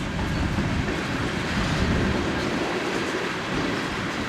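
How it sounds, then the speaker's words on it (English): Freight train passing close by with an old ICG bulkhead car on a CN local along a diagonal road, a steady loud rumble of rolling wheels and rail clatter that stays constant throughout. "There's an old ICG bulkhead car."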